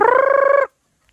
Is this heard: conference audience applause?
no